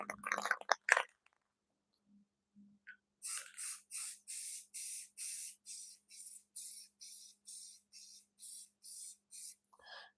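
Short repeated bursts of gloss black spray paint hiss from an aerosol can, about a dozen evenly spaced sprays close by, after brief rustling and faint handling sounds in a quiet room.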